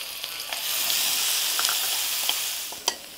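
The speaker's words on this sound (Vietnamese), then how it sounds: "Mỡ cũng đã sôi rồi nè, mình cho hành tỏi băm vô." Minced garlic and shallots sizzle steadily in hot lard, a close, bright frying hiss with small pops and crackles throughout and no talk.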